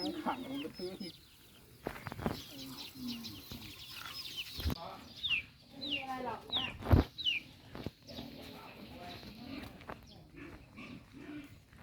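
Chickens cluck and a rooster calls repeatedly around a rural Thai farmyard with ducks, the bird sounds scattered and moderately near, mixed with people talking.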